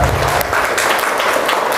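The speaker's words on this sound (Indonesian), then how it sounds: "Sebelumnya kita tepuk tangan dulu untuk kita semua." A crowd at a village head election campaign event in Karangmekar, Tasikmalaya, claps loudly and densely in a brief, close burst of applause.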